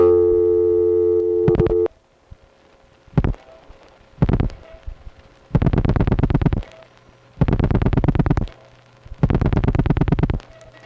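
Telephone switching tones on a call to 990 routed through New York's Lynbrook 9 exchange: a steady tone, then clicks and short bursts, then three long pulsed buzzing tones with brief gaps, clear and close.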